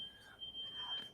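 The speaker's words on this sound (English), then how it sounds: "Oh, there's a smoke detector." A smoke detector chirps with a thin, steady high-pitched tone in the background of a podcast recording room, faint and partly masked by room noise.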